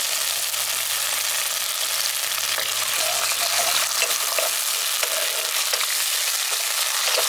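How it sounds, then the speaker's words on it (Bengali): Chopped tomatoes with salt and a splash of water cook down in a pan for egg masala curry, giving a steady, loud, close sizzle that runs unbroken throughout with no talking. "সামান্য একটু জল দিয়ে আমি এটাকে কষিয়ে নিচ্ছি।"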